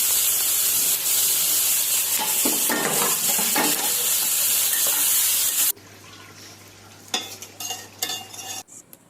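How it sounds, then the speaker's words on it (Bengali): Finely chopped potatoes fry in a pan with turmeric and salt, giving a steady close sizzle and hiss with scraping stirs. The sizzle drops quieter partway through, then returns with bursts of stirring. "সঙ্গে একটু কুচি করে আলু ভাজা করব।"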